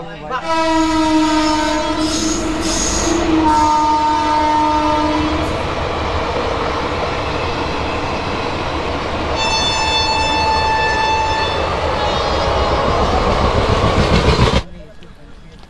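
Radhikapur Express train at New Farakka station in Murshidabad, loud and close, with a long train horn blast opening, a second horn later and a steady rumble of the train on the rails between them.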